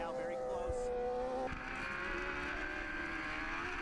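Yamaha, Triumph and Kawasaki superbikes race at a Mopar Pro Superbike round at the Autodrome in St-Eustache, Quebec, their high engines whining as one shifts pitch, under a commentator's voice.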